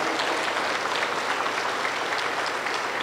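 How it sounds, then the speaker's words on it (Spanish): A church congregation gives dense, steady applause at the close of a prayer, a continuous even clatter of many hands that stays loud for a few seconds. "Aplauso para el Señor Jesús."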